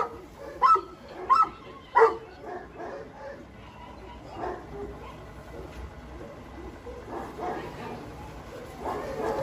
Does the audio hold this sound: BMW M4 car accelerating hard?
no